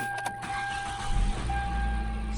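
A Hyundai Elantra engine, after a timing belt replacement, cranks briefly and catches, settling into a low steady idle, close by with no talking.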